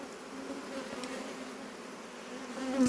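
Honey bees drone steadily around a beehive during beekeeping, a continuous close buzz with a slight swell near the end.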